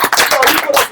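A full-house crowd applauds at a sports shop road show event: a brief, dense burst of clapping with voices mixed in, loud and close.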